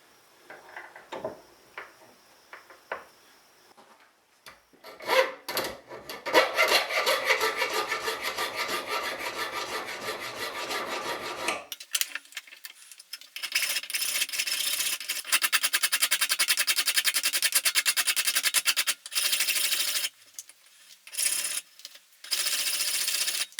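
A bone guitar nut blank is filed and shaped by hand, with scattered taps and handling at first, then long stretches of harsh, rhythmic rasping strokes close up, broken by short pauses.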